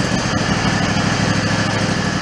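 A lawn mower engine runs steadily at close range, a continuous small-engine drone with no pauses, set at a little throttle and choke while the stalling mower is being troubleshot.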